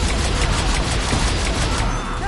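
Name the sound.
turret gunfire in a PS4 video game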